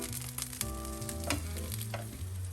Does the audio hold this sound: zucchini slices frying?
yes